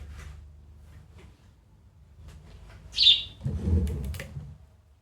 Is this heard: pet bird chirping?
yes